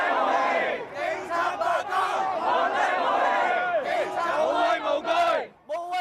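A large protest crowd outside government headquarters in Hong Kong chants and shouts in unison, loud and close, with rising and falling cries that break off briefly near the end before resuming.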